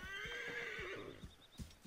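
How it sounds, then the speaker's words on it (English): A horse whinnies in the video game Assassin's Creed Origins, a long rising-and-falling neigh up close, followed by a few clip-clop hoofbeats as it arrives, with no talking. "Call the horse, and there he is."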